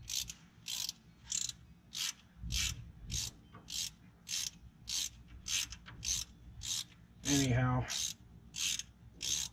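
A ratchet tightens a bolt on the front hub bearing assembly of a 2008 Toyota Tundra 4x4, giving a steady run of sharp, close clicking bursts in an even rhythm, with a brief spoken word partway through.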